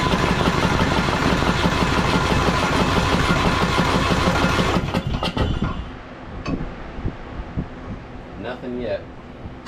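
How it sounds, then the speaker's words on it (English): Engine of a blown-up John Deere tractor cranking over, a loud rapid chugging that runs for about five seconds, then stops abruptly, leaving faint clanks and rattles. "Alright, well, here goes the first crank over."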